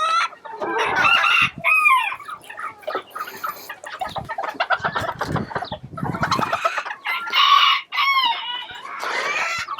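Bantam chickens, including a bearded variety, cluck loudly and near, with repeated clucks and a rooster crowing amid the flock and no talk.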